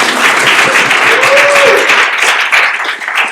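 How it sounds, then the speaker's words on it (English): Audience applause at a tech talk about Lottie motion graphics for Apple platforms: a loud, sustained burst of many hands clapping, with a brief voice-like tone briefly audible midway through. "big round of applause"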